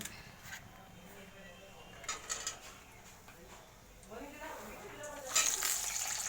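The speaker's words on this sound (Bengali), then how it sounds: "আলুগুলো লাল লাল করে ভাজা হয়ে গেছে।" Potatoes fry in a pan with soft, intermittent sizzling and occasional stirring clatter, fairly quiet, with voices talking faintly in the background.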